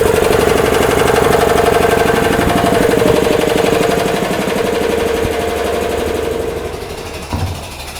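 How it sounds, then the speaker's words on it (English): Old air compressor running in a garage during a Mini Cooper build, a loud close rattling, chugging mechanical drone that fades slightly toward the end. "Gonna turn the compressor on, so that'll be like an old, like the Titanic starting up."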